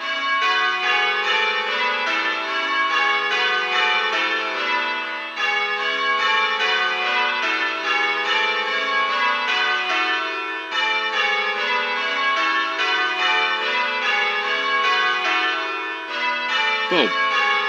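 Church bells ring in changes, plain hunt to fourths place with a touch of Little Bob Minor, a steady, unbroken cascade of overlapping bell strikes in even rhythm.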